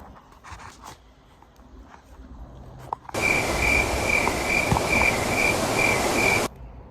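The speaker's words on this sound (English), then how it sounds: "Crickets." Crickets chirp in a night-time wood, a loud steady rapid trill that starts abruptly after a few quiet seconds of faint rustling, holds for about three seconds and then cuts off sharply.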